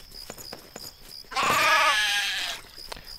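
A sheep in the Craft The World video game gives a single loud, wavering bleat lasting about a second, set against soft clicks and light game sounds.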